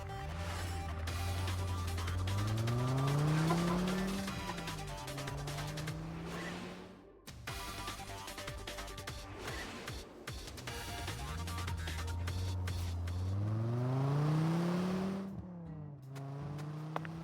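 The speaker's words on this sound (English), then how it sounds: "you can hear her car zooming up, but you don't actually see it" A car in the video game Deadly Premonition 2 zooms up unseen, its engine rising in pitch through two long accelerating sweeps with a brief gap between them, loud and steady, with no talking.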